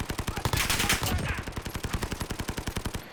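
A PP19 Bizon submachine gun fitted with a recoil cap fires one sustained, rapid automatic burst of evenly spaced loud shots in Call of Duty Modern Warfare.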